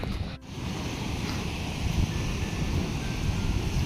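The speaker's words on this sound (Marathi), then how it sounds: "मस्त पाणी आणि मस्त धबधबा आहे" A waterfall and rushing water at a dam site during monsoon season, a steady broadband roar that holds constant, close and loud, with no voices.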